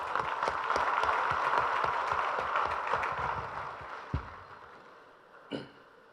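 Audience at an Imo State anniversary event applauds Governor Okorocha and his team, a steady wash of many clapping hands that fades out after about four seconds, followed by a couple of isolated knocks.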